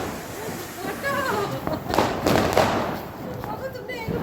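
Diwali firecrackers bursting with crackling hisses and pops in a cluster, heard amid people talking and calling out close by.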